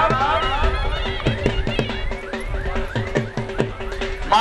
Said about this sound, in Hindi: सामने घोड़ा